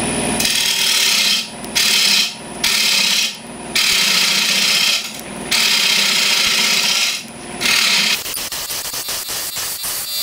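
A woodturning gouge cuts into a spinning wooden bowl on a lathe, loud rough scraping in repeated bursts with short pauses, then a lighter rapid chatter at the end.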